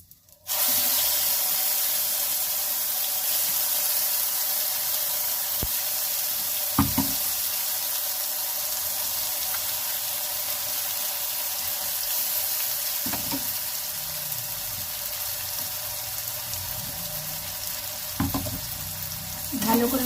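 Ground black cumin paste hits a hot pan for a mustard-fish dish and sizzles steadily for about twenty seconds, close and bright, broken by a few faint clinks of a spoon stirring.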